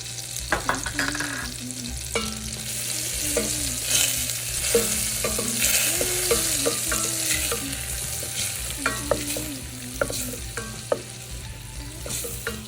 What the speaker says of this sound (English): melting your butter in a pot and then putting some garlic